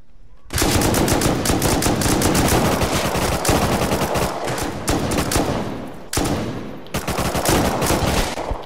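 Loud, sustained automatic gunfire in a first-person shooter video game, continuous bursts over several seconds with brief gaps between them.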